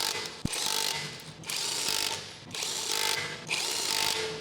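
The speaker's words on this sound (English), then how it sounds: "Using 21 miller socket with impact wrench to snug down the lug nuts." An impact wrench with a 21 mm socket snugging lug nuts on a Ford Escape wheel, firing in four loud, close rattling bursts of about a second each, separated by short pauses.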